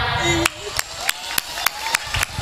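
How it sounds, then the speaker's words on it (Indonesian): An audience claps hands in a slow, evenly spaced rhythm, about seven sharp claps over a couple of seconds, with a voice and background murmur underneath. "Tepuk tangan."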